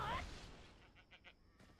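Mountain sheep in the Black Desert game give a few short, faint bleats after a brief loud burst at the start.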